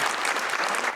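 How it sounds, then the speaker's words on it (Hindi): Studio audience at a Pakistani talk show gives a burst of steady, dense clapping that fills the whole second at full loudness, with no voices over it. "साहब के लिए बहुत सारी तालियां"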